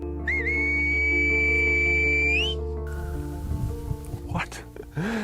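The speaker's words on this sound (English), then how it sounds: "the islanders aren't just whistling for fun, they are communicating with one another across great distances" Whistled language of La Gomera in the Canary Islands rings out as a long, clear, rising and sliding whistle, loud and sustained, before giving way to softer background noise and a few brief later whistle fragments.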